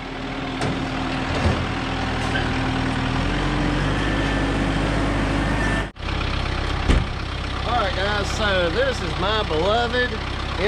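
A 2015 Kubota M7060 tractor, factory-ordered with a 12-speed transmission, idles steadily with a low, constant engine drone underneath, while a person talks close by for most of the stretch.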